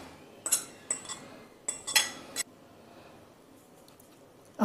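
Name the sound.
spoon mixing paneer and potato kofta mixture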